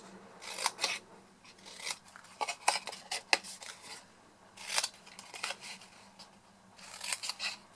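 Scissors snip wedges into the corners of a lip balm gift box, giving quiet, close, crisp cuts in irregular clusters with short pauses between them.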